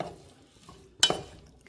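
Fenugreek leaves are stirred into roasted onions in a pan, with one sharp scrape and clink of the spoon against the pan and a short rustle after it, set against a quiet background.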